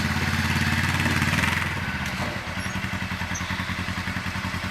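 A KF5 plow machine's engine runs steadily and loud at close range, a throbbing mid-pitched idle with a clattering pulse that settles into a slightly uneven rhythm as it works through the first plowable snow.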